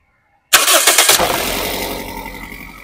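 After a brief silence, the starter of a 2008/09 Toyota Corolla Altis petrol engine cranks in quick pulses, the engine catches with a burst, then settles into a smooth, steady idle.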